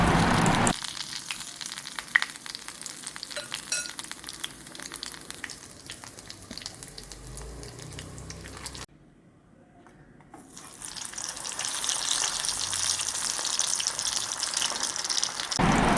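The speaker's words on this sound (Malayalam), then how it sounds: "അത് നമുക്ക് വറുത്ത് പോരാം" Steady hissing sizzle of egg and onion fritters deep-frying in hot oil, continuous and fairly loud, with a brief drop to near silence midway before it resumes.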